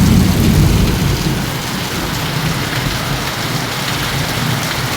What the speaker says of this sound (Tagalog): Ang lakas ng bagyo ngayon. Galit na galit ang langit.